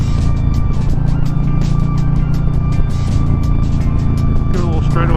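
A 2022 Harley-Davidson Low Rider S V-twin revs hard at around 4,500 RPM, a loud, steady low rumble with wind roar, heard close while riding.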